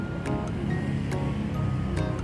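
A tugboat towing a string of barges on the Chao Phraya River, heard as a soft steady wash of water and low engine drone, with a few faint knocks and creaks, no one speaking.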